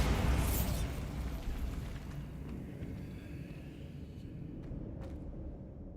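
A Bombarda spell explosion in Hogwarts Legacy opens with a loud booming burst, then trails off into a long, fading low rumble.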